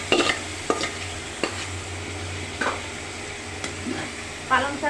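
Ground spinach paste is stirred while frying in oil with turmeric and chili. Steady low sizzling runs throughout, broken by occasional spoon scrapes against the pan.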